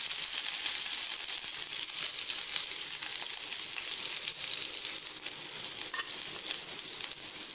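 Onion frying in hot oil with mustard seeds, garlic and curry leaves gives a steady, dense sizzle. It stays loud and even throughout, with a brief higher scrape near the end and no voices.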